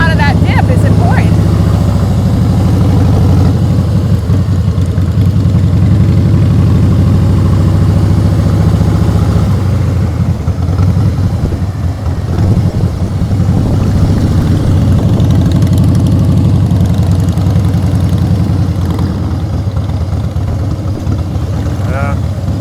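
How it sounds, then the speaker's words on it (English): A black Harley-Davidson Fat Boy motorcycle's engine drones with a deep, steady rumble throughout, swelling slightly as the throttle opens, with a voice talking over it. "I sure would like to hear more power out of that. black fat boy."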